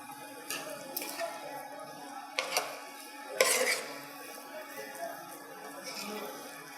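A spoon scrapes and clinks against a pan while dabeli masala is mixed, several irregular stirring knocks over a faint background hum.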